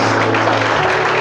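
A church congregation applauds in a brief, loud burst of steady clapping with a low hum underneath.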